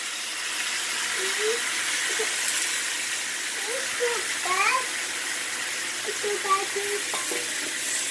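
Shrimp dropped into a hot pan set up a steady broadband sizzle, with faint voice-like tones in the background.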